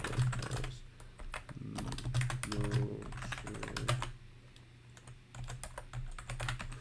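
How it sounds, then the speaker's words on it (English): Fingers type on a computer keyboard in quick bursts of soft, close clicks with short pauses, against a low steady hum and no talking. "so I'm just typing out"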